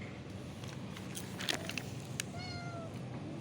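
A cat meows softly a few times, short thin calls close by over a faint steady background hum, with no talk.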